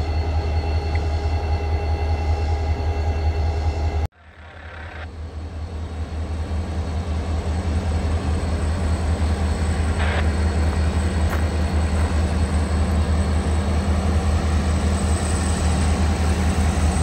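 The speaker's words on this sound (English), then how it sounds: "I'm going to stay here till I get this CSX train." A long CSX freight train with Jeeps on its wagons rumbles past at close range, a steady roar of rolling wagons with a brief dip before the heavy noise resumes.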